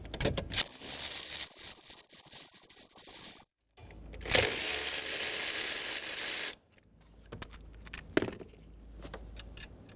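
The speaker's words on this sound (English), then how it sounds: "Go around and remove the nuts and bolts." 12mm nuts and bolts come off the steering column of a 2011-2014 Hyundai Sonata, heard as close metallic clicks and ratcheting rattles, then a sustained whirring burst from a tool for a few seconds before more scattered clinks.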